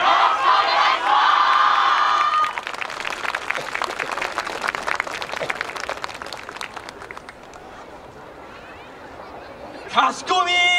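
A crowd at the Kyoto Sakura Yosakoi dance festival cheers and shouts loudly, with clapping and children's voices that build and then fade, and a brief renewed yell near the end.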